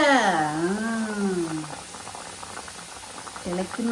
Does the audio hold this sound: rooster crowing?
no